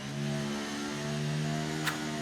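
Steady, sustained engine drone from an F1 car idling and revving on the starting grid in the F1 23 racing game, a continuous harmonic hum held at an even level with a brief high click near the end.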